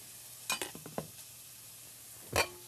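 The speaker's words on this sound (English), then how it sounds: "I'm going to whisk in the polenta." Polenta is whisked in a pot with a few quick, scratchy strokes, then a pause and one final louder stroke. The sound is soft and close against a quiet background.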